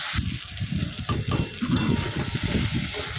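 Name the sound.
onion and potato frying together in a pan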